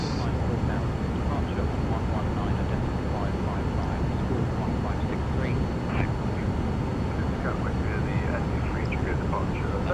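The Cirrus G2 Vision Jet in Microsoft Flight Simulator 2024 gives a loud, constant engine roar with broadband rush that fills the whole stretch, with faint chirpy sounds above it.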